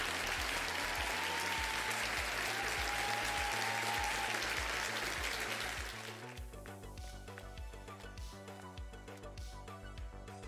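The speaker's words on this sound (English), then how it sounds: "Big old round of applause for Eric." An audience claps in a dense burst of applause that holds strong for about six seconds, then drops and thins, with background music continuing underneath.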